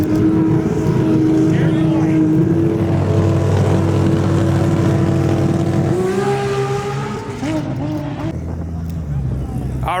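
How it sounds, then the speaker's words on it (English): Toyota Supra race cars at a TX2K22 drag racing event, engines droning and revving in long rising tones with a car passing, loud and near, while people talk over it. "All righty, we're getting some Supras running."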